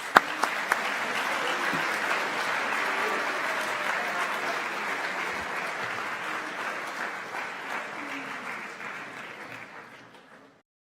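An audience at a school awards ceremony claps long and steadily for Coaches Award recipients, a dense wash of applause that holds strong and then fades away near the end.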